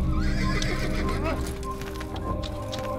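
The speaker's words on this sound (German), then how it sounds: "Aber da ist ja ein Pferd." A horse in the Assassin's Creed video game gives a loud, close whinny with a wavering pitch, heard over steady game music and ambience, with a few hoof clops following.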